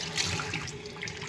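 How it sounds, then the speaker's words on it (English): Warm tap water running over a backyard chicken egg, a steady splashing gush from a faucet, close and continuous with slight gurgling changes, no voices. "Rinse it off with warm water."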